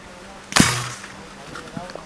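A single sharp crack from a Falcon air rifle fired at a target 50 yards away outdoors, one near shot followed by a short fading tail and quiet background.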